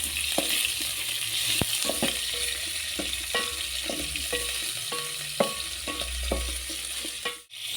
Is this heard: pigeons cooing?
no